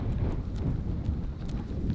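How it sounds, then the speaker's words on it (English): Low, rumbling wind buffeting a microphone, a constant muffled roar with gusty swells and no voices. "Hopefully the mic's filtering it out,"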